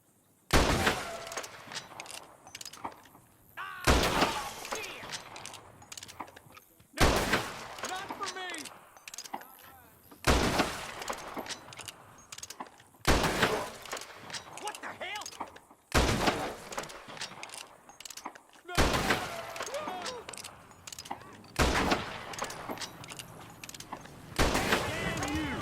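Rolling block rifle in Red Dead Redemption firing repeatedly, sharp shots spaced about every three seconds, with game sounds and a voice in the background between blasts.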